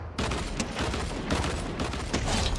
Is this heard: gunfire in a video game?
yes